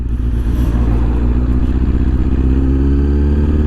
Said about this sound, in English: now we got a video of me riding the Triumph.